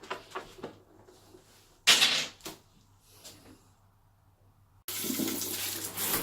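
Running tap water rinses freshly treated Atari 800 computer parts, the flow starting and stopping in bursts with a loud steady stream near the end, alone without voices.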